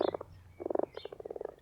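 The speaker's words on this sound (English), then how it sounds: "when the frogs croaked" Frogs croak in quick rhythmic bursts of rapid pulses, three clusters of close, fairly loud ribbits with short pauses between.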